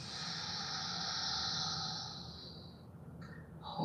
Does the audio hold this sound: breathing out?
yes